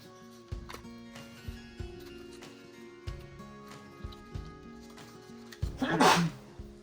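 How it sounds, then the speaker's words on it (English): A single short sneeze bursts out near the end, following scattered soft knocks and handling noises. "Sorry about that, I sneezed."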